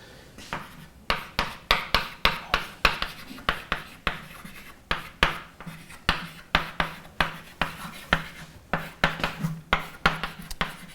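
Chalk or marker writing on a board during a lecture, a rapid series of short scratchy strokes in quick irregular bursts with brief pauses, close and clear, with no speech.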